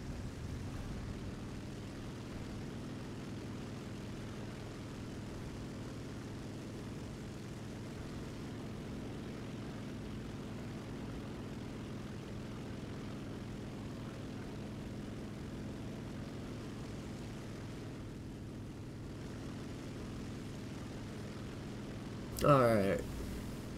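A video game airplane makes a double takeoff, its steady engine drone running continuously under a streamer's voice, with a brief louder burst near the end.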